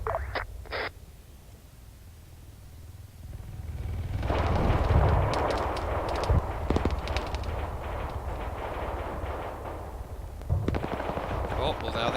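Gunfire in the military video game Arma 3: dense bursts of rifle and machine-gun fire crackle steadily over a low rumble, with a few sharp, loud reports standing out and brief voices under the shooting.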